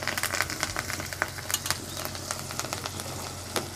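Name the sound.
onion, tomato and coriander sautéing in oil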